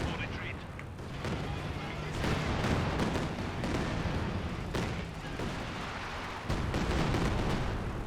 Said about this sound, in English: More artillery coming on in.